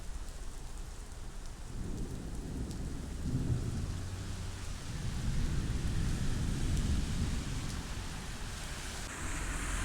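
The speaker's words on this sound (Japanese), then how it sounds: "雨が小降りになってきた。" Heavy rain pours down near Hakkeijima in Yokohama at night, a loud steady roar with deep rumbles of thunder rolling under it and no voices.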